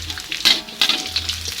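Chili peppers tossed into a pan of half-cooked shallots and garlic, a soft steady sizzle broken by a few louder stirring scrapes, close and alone with no talk.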